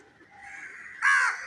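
Crows caw outdoors, a faint rising call followed by one louder, harsh caw near the close.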